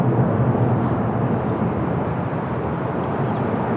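A Portuguese Air Force Embraer KC-390 runs at Lisbon Airport on a windy day, a steady broad engine rumble at moderate distance, unbroken and without speech.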